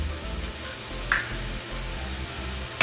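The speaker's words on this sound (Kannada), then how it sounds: "ಇವೆಲ್ಲ ಸ್ಪೈಸಸ್ಸು ಚೆನ್ನಾಗಿ ಹಸಿ ವಾಸನೆ ಹೋಗೋಕ್ಕೂ ಸ್ವಲ್ಪ ಫ್ರೈ ಮಾಡಬೇಕು" Ground spices, coriander powder and chili powder, frying in a pan for vegetable pasta, giving a soft continuous close sizzle with one brief brighter hiss midway.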